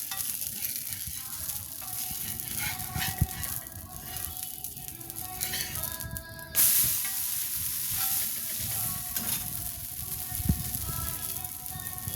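Dosa frying on a hot pan with a steady crackling sizzle and occasional scraping stirs, close and continuous throughout, with no talk.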